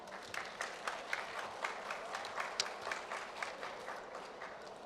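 Steady applause from a crowd, many hands clapping in a dense, even patter at moderate distance.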